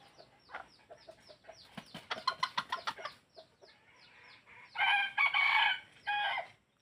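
A rooster clucks in a run of short calls, then crows loudly and close by in a long, drawn-out cock-a-doodle-doo, with another shorter crow after it.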